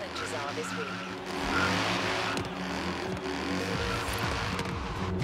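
A twin-turbo V8 fitted to a small roadster in Forza Horizon 3 revs hard with a loud, continuous engine roar, while someone talks over it.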